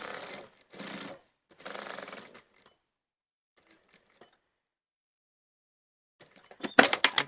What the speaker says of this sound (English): So I'm going to machine it, and I'm going to start